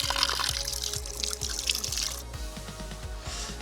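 Water runs and splashes continuously from a public street fountain in Cardedeu, a close, steady pour with rhythmic dripping pulses and no talking.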